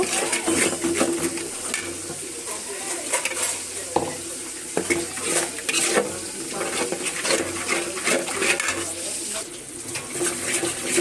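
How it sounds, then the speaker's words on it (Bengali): Powdered turmeric, salt, chili, cumin and coriander frying in oil in a pan, a steady sizzle with repeated scraping and clinking of a spoon stirring against metal, close and continuous. "মশলাটা কষিয়ে নেব।"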